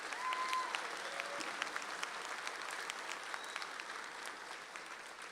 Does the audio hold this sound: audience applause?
yes